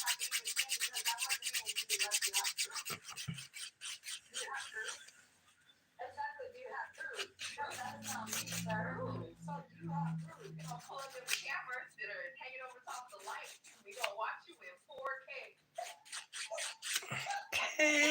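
A nail file scrapes back and forth across dip powder glitter ombré nails in soft, rapid rubbing strokes that run almost continuously, close and quiet, with a person talking softly throughout.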